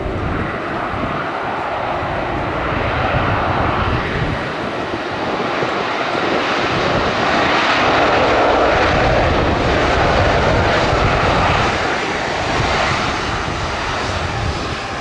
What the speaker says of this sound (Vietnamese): Bây giờ chiếc máy bay đang nhanh chóng hạ cánh xuống đường băng 25 phải.